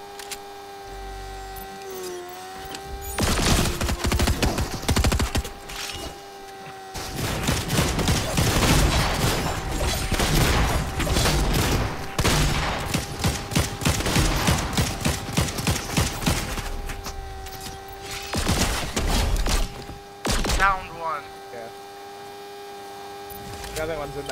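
Video game gunfire in Fortnite rattles in long rapid bursts and scattered shots over a steady electrical hum, loud and continuous with brief pauses.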